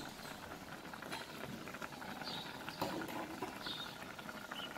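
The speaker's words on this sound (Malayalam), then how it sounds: "ഇത് നന്നായിട്ട് തിളച്ചിട്ടുണ്ട്" Water comes to a boil in a pot for rava puttu, giving a steady, close bubbling hiss and patter with small irregular pops throughout, and no voices.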